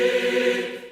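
A sampled choir instrument holds a short sustained chord played dry without reverb, sounding close and upfront for about a second before it fades slightly, with no speech.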